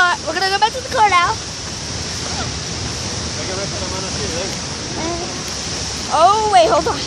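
Steady broadband rush of water flowing at a waterfall, loud and continuous throughout, with voices talking over it at the start and end.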